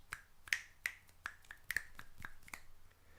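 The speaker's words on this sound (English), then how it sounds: "Can you guys snap your fingers? I mean, I can." Sharp finger snaps, about ten of them in an uneven string, close and crisp against a quiet room with no talking.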